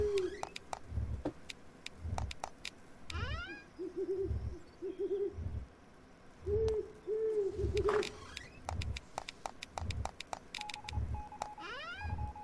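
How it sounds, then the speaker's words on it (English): Owl hooting in the video game Night of the Dead, a series of low, soft hoots repeated at a steady pace over a quiet night ambience with rhythmic low thumps and occasional brief chirps, no talking. "Oh, there goes the owl. I knew I heard it."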